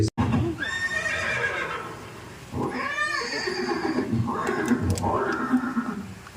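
A horse whinnies loudly several times in a historical scene of Maharana Pratap and his war horse from the Battle of Haldighati, amid clopping hooves, with a voice talking over it.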